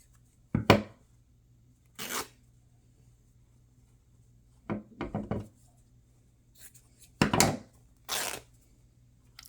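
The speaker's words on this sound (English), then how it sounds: "I'm just throwing my scissors on the table here, making so much noise." Scissors are tossed onto a tabletop during fabric bowl stitching, producing several sharp, close clattering knocks in scattered bursts separated by near silence.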